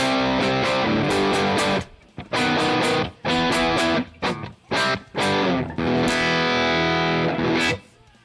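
Telecaster electric guitar played through a distorted amp sim on a Zilla cab setting, loud, thick chugging chords and riffs in bursts with short gaps, ringing out at the end, no voices.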